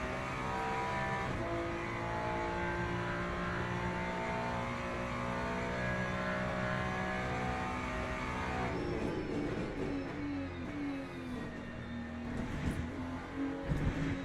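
A race car engine drones steadily in the racing game Le Mans Ultimate, a continuous whining hum with shifting pitch that swells into louder revving and gear changes toward the end.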